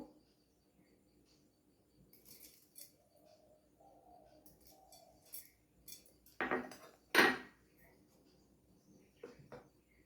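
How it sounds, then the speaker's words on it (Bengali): Knife chopping durva grass finely on a board, a few sharp clustered cuts around the middle with scattered light taps before and after, close and fairly quiet. "আর কিছুটা দুর্বাঘাস আমি কুচি করে কেটে নেবো"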